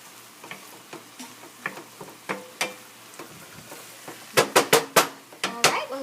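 Tater tot casserole mixture cooking down in a pan on the stove, a faint steady simmer punctuated by light ticking and tapping clicks that grow louder and quicker near the end, with no talk.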